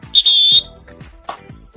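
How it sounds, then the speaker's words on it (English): One sharp, loud blast on a whistle at the start of a two-minute drill, held for about half a second, followed by faint clicks and no talk. "So, Kel, I need you to blow the whistle."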